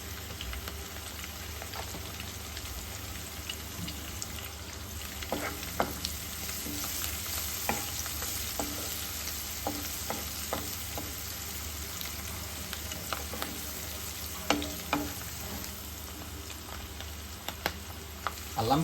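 Duck curry sizzles gently in a pan while being stirred, a soft continuous frying hiss punctuated by irregular spoon scrapes and taps, near but fairly quiet, with no voices.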